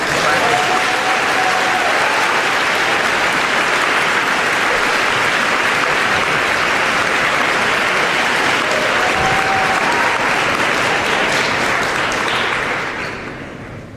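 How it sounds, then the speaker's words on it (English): A round of applause at a Dr. Martin Luther King Jr. convocation after a keynote, a loud, thick ovation of many hands holding steady for about twelve seconds before tapering off. "round of applause"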